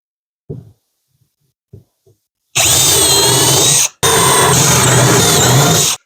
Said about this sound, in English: Then I'm going to put some screws in from the top.